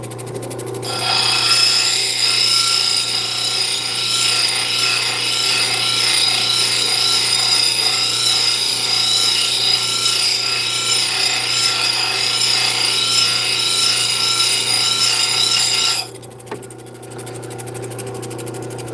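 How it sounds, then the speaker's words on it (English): A power tool grinds down obsidian in a steady, high whining drone that runs loud and unbroken for most of the clip, then briefly drops near the end. "We can grind down a little bit more."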